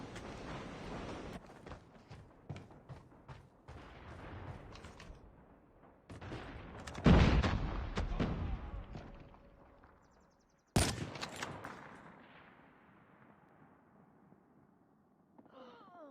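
Sniper-style AMAX rifle shots in a competitive first-person shooter match, several sharp reports spaced apart with mechanical bolt clicks between them, one loud crack near the end trailing into a fading decay.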